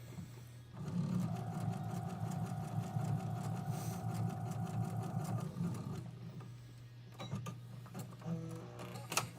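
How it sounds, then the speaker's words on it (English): A sewing machine runs a big zigzag stitch around a quilt, a loud steady mechanical whir with rapid rhythmic needle chatter for several seconds, then stops, followed by some handling clatter. "So right now all I'm doing is I'm just doing a stitch, big old zigzag stitch all the way around."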